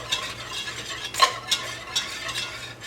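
Pepper and salt are stirred into a pot of roasted garlic and stout mac and cheese, giving a few soft, scraping spoon strokes against the pot, quiet and close with no talk.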